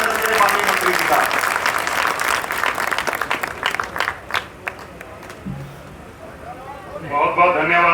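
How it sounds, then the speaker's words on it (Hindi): A large crowd at a political gathering applauds a government minister, strong clapping at first that thins into scattered claps and fades while a voice speaks over the tail end. "एक बार जोरदार तालियों से अभिनंदन करें माननीय मंत्री जी का।"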